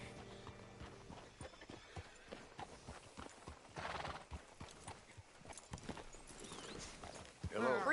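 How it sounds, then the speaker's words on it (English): Horse hooves clip-clop at a steady walk in Red Dead Redemption 2, with a horse whinnying near the end, amid game ambience and voices speaking. "Hitch your horse up here."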